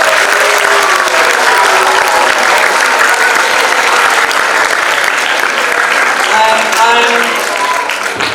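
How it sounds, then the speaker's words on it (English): Loud, sustained applause from an audience at a talk on Thiruvalluvar's Kural, continuous clapping filling the whole stretch with some voices mixed in near the end. "A round of applause for all of you."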